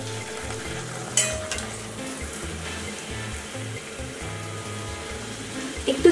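A large puffed bhatura frying in hot oil while its sides are pressed down, giving a continuous close sizzle with bubbling surges and a few louder spatters and clatters.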